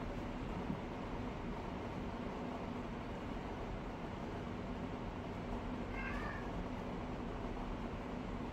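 A cat meows once, briefly and faintly, partway through, over a constant low rumbling background hum indoors.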